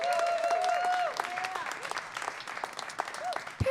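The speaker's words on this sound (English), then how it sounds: "So I just want to give a round of applause for that." An audience at a Boston spoken-word poetry night breaks into applause with whoops and cheering shouts, loud at first and then thinning into scattered clapping and voices.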